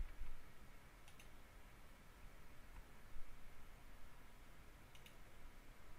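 Two faint, sharp computer mouse clicks, spaced a few seconds apart, over a quiet room hiss during website building in a web design program.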